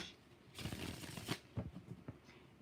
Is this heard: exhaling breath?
no